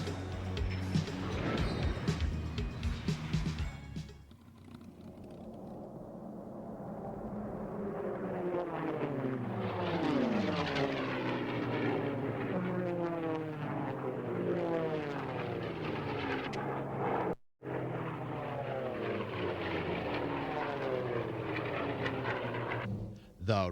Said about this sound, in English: Listen to the engines as the planes flare over the main active runway.